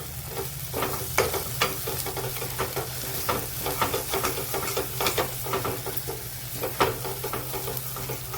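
Paneer gravy seasoned with turmeric, garam masala and salt is sautéed in a pan, a soft steady sizzle broken by rhythmic spoon scrapes and stirring taps close by, no talking.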